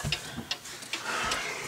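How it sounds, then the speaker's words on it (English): A collection of clocks ticks in an upstairs room, several overlapping sharp ticks at an uneven rhythm heard close over a faint steady background hiss. "These are all the clocks upstairs."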